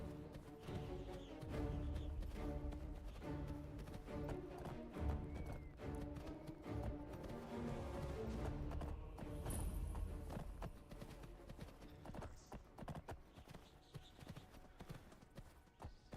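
Horse hooves clip-clopping at a walking pace in the video game Lorerim, a steady rhythm of hoofbeats under a dense bed of game music and ambience, with no talking.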